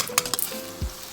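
Washed lentils sizzling in a pot with finely chopped onion for Egyptian koshari, a close, steady hiss of frying broken by a few sharp clatters of a spoon against the pot.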